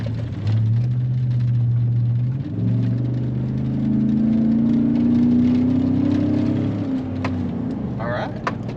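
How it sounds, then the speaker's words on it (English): From inside the cabin, a car engine fitted with a Flowmaster 40 exhaust idles with a low drone and then rises in pitch as the throttle is blipped, before settling back down. The sound is steady and close, with faint talk in the background. "I'm gonna give it a little bit of throttle"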